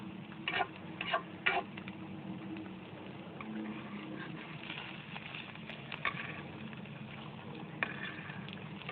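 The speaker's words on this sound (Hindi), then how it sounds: "देखिए हमारे जो हैं अनार दाने वाली जो हमारी टिक्कियाँ हैं फ्राई हो रही हैं" Potato tikkis studded with pomegranate seeds fry in hot oil, giving a soft, steady sizzle with faint pops and crackles and no talking.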